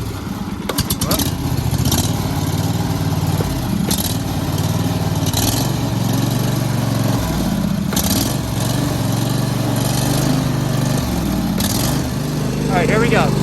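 A Wright stand-on mower runs loud and steady with its cutter deck blades engaged and worn-out spindle bearings, with recurring knocks and rattles roughly every two seconds over the continuous engine drone.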